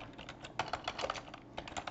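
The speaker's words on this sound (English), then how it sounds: "That's just as simple as typing in the name of the custom lead source" Quiet, close typing on a computer keyboard, a quick irregular run of soft key clicks with brief pauses.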